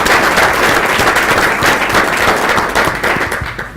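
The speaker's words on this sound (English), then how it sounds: "We'll have one more clap for Mr. Smith" A room full of people at a conference session applauds steadily, dense clapping at close range that begins to thin and fade toward the end.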